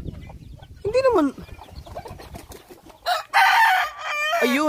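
Chickens call and cluck close by, with a sharp, loud crow-like burst near the end and some background murmuring.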